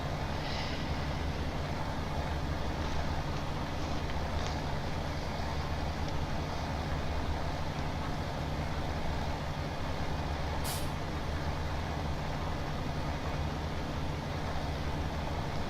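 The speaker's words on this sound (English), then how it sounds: "Can really notice the workload sounds of vehicles in the harvesters, the combines" Combine harvester engine drone in Farming Simulator 17, a steady low rumble with hissing, air-brake-like bursts that runs unbroken and fairly loud throughout, with no talk.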